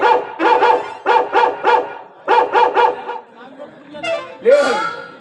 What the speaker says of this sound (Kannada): ನಾಯಿ.